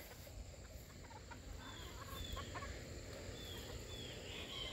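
Hatch hens and small Houdan chickens in a farmyard on a quiet morning, heard as soft, faint clucks and scattered chirps over low, steady outdoor background noise.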